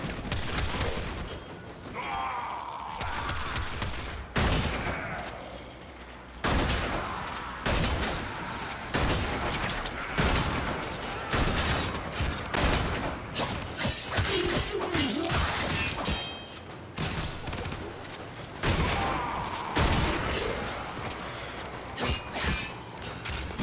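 Rapid bursts of enemy gunfire crackle almost nonstop in the Warframe shooter game, dense overlapping shots and impacts filling the whole stretch with no voices over them.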